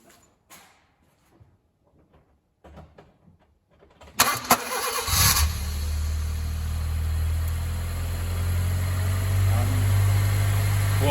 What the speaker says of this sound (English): Voila, the engine is running again.